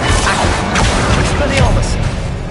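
Incendio fire spell cast in the Hogwarts Legacy video game: a dense burst of fiery whooshes and crashing impacts, loud and continuous, with a voice shouting over it.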